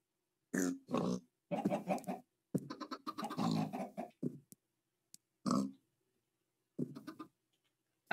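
A pig in a farming video game grunts in a series of short, separate snorts and squeals, close and clear with silent gaps between bursts.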